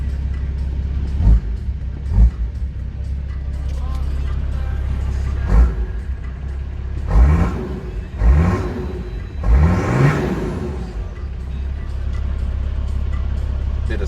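A car engine idles with a steady exhaust rumble, punctuated by several sharp revs that rise and fall, loud and close.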